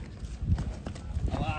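A large, agitated cow leaps and stamps onto a truck during loading, giving dull, irregular thuds and scuffling hoof knocks close by, with a voice talking over them.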